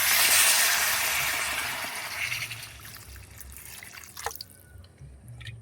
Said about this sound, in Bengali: ওটা আমি ঝোলের পানি দিয়ে দিলাম।